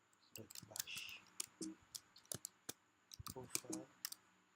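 Keys are tapped on a Mac computer keyboard while entering a terminal command, producing irregular bursts of crisp clicks, some fast and clustered, others spaced out, close and moderately loud, with a quiet voice speaking between them.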